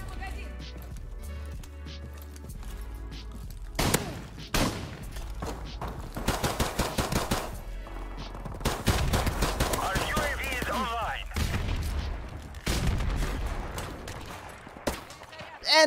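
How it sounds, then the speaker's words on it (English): Gunfire in the video game Call of Duty Modern Warfare Remastered: bursts of shots and sharp cracks come in clusters across the clip, mixed with other game effects and a voice talking over them. "And I get shot through the window"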